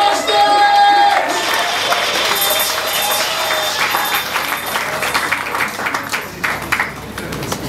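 Audience applause and cheering for a reggae artist at a live open-mic event, dense clapping mixed with crowd shouts, loud at first and thinning out somewhat toward the end, with some music fading under it early on.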